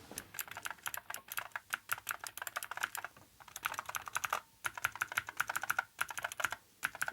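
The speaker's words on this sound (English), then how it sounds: "you can hear the clickiness of it" Fast, crisp typing on a mechanical keyboard with clicky switches made for an Amiga 1200 computer: bursts of sharp, close keystrokes with brief pauses between runs, no voices.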